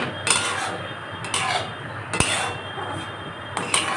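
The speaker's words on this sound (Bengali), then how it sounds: "ভালো করে আবার এটাকে কষাচ্ছি" Black chickpeas are sautéed in a pot over a constant frying hiss. A spoon scrapes and clanks against the metal several times in quick, uneven strokes, close by.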